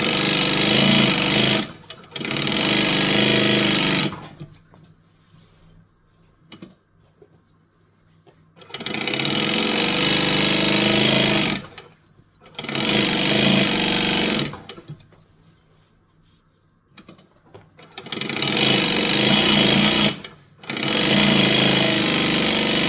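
A sewing machine stitches thin fabric in loud, rapid mechanical bursts of several seconds each, separated by quiet pauses, with the rattling whir stopping and starting four times.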